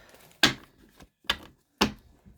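Tarot card deck being shuffled: three sharp riffling bursts about a second apart, close and crisp, each ending quickly with quiet gaps between.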